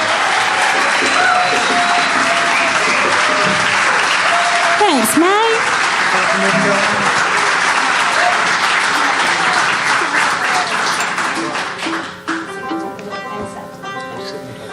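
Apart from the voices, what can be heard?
audience applause for a singer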